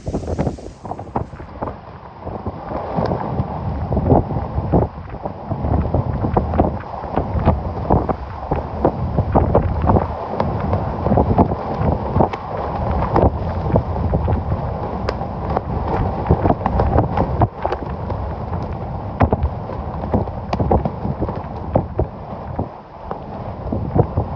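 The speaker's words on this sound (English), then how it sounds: "Oh my gosh, look at the wind swirling." Hurricane Milton's northwestern eyewall, a Category 3 storm, roars around a truck, producing loud, continuous buffeting wind and gusts that batter the microphone.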